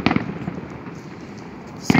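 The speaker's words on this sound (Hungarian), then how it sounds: "szilveszteri tűzijáték bemutatón, amit a Gábor emlékére" New Year's Eve fireworks display with sharp pops and crackling bursts near the start and again at the end, separated by a continuous rumbling wash of distant explosions.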